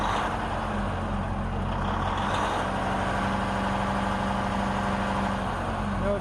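A heavy truck's diesel engine idles roadside with a steady low rumble and constant droning hum throughout, loud and close, with no talk.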